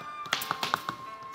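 Metal upholstery chair tacks tapped into a sofa at a craft demonstration: several sharp, close taps in an uneven rhythm over a faint steady hum, with no talk.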